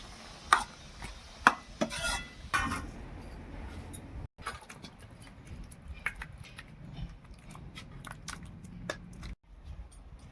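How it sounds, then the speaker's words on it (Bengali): Boiled pumpkin and potato are mashed with a ladle in a pot, giving soft squishy stirs and light taps, a few louder knocks near the start, then steady quiet scraping and patting. "কুমড়ো আলু খুব সুন্দর সেদ্ধ হয়ে গেছে, এটাকে আমি একটু হাতার সাহায্যে হালকা করে ঘেঁটে নেব।"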